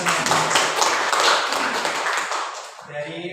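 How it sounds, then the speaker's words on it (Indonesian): Group of participants at a school training session clapping together, a loud burst of many hands that fades out near the end, with a voice speaking briefly as it dies away. "Tepuk tangan untuk kita semua."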